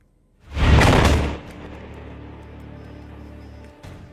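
A loud, sudden explosion in the Israel–Iran conflict bursts out, then a long rumbling tail of debris and noise fades slowly over several seconds.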